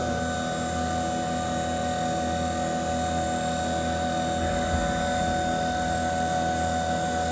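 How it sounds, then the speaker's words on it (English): A machine cuts a part for a high-performance air-cooled motor, giving a steady loud whine with layered tonal hums and a constant mechanical drone, close and continuous. "So it's cutting, so I gotta turn the coolant on."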